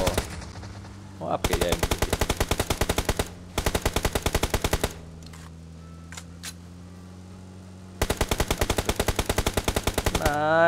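Rapid automatic gunfire in a mobile shooter game comes in three sustained bursts separated by quieter gaps with faint game effects, and someone speaks briefly between shots.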